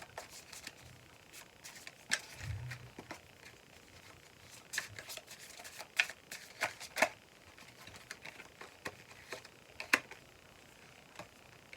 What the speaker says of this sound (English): we're going to pull a couple more oracle cards